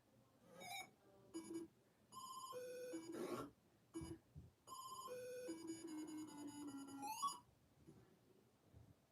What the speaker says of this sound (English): Unfortunately, Atari used the same sound effects from the 2600 game.